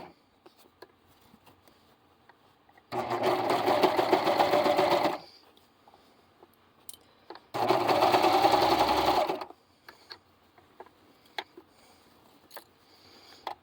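A serger fitted with a cording foot sews a purse in two close, loud runs of fast rattling stitching, each about two seconds long, separated by a quiet pause with light handling sounds.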